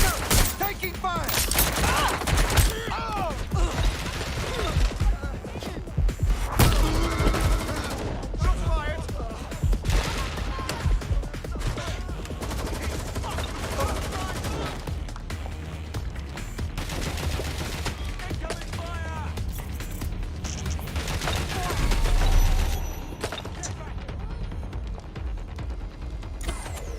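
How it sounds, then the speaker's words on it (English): Gunfire in the Watch Dogs Legion video game, with dense, rapid volleys of automatic shots continuing almost without pause, loud and close, mixed with bursts of talk over the combat. "Taking fire!"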